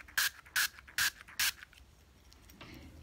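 Four short, evenly spaced hisses from an Avon quick-dry nail spray being pressed close by, each a sharp burst followed by a quiet tail of faint handling noise.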